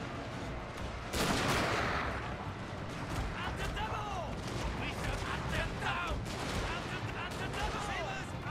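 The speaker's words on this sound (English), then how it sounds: "Straight into my gunfire," Musket and rifle fire crackles in a Shogun 2: Fall of the Samurai battle, a sharp volley burst followed by scattered repeated shots and battlefield noise, with a voice talking over it.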